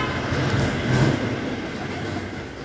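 Steady rumble and rattling clatter fill the cabin of the moving Puri–Shalimar Super Fast train, a continuous loud rolling drone with wheel and carriage noise, no voices over it.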